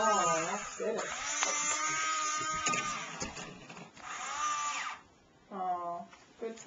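A child's toy drill whirs in short bursts during play in a toy car, its buzzy motor tone rising and falling beneath frequent adult talk and encouragement.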